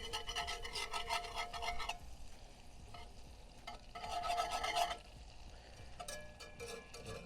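A metal whisk scrapes and stirs in a skillet where something is melting down, giving repeated raspy scraping bursts with gentle sizzling between them, close and moderately quiet.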